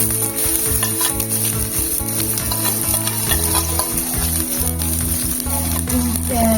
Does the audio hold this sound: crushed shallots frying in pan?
yes